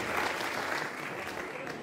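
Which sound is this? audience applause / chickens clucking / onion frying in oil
audience applause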